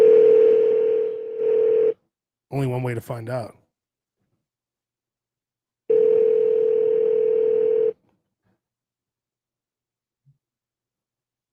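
A telephone dial tone sounds twice in steady, sustained stretches, with a short burst of speech between them and near-silence at the end.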